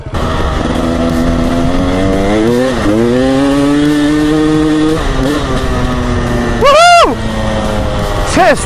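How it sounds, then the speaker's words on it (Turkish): Enduro motorcycle engine on a training ride, loud and close throughout, with the pitch rising and falling as the rider works the throttle, including one sharp rev near the end. "Enduro değiliz ama bu benim ilk enduro motor sürüşüm hayatımda."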